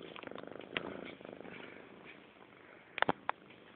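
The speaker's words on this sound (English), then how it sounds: "This is my cat." A pet kitten purring close to the microphone, a soft rhythmic rattle of repeated breaths that fades slightly, with a few small clicks or taps near the end.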